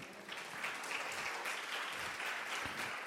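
A church congregation at a Christmas sermon breaks into applause, many hands clapping in a sustained, even wash that swells after the first moment and holds steady, heard from across the room.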